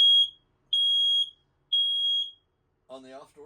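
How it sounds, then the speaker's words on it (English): Smoke detector mounted on the ceiling of a 2025 Forest River Salem FSX 174DBLE travel trailer sounding three loud, evenly spaced high-pitched beeps, each about half a second long, followed by a person starting to talk. "We do have a smoke detector on top."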